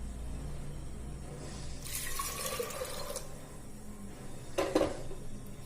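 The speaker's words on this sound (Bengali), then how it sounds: "এর মধ্যে এবারে জল দিয়ে দেবো।" Water poured into a pot of chana dal, a soft rushing splash lasting over a second, then a brief second pour a moment later, both quiet against a low steady background hum.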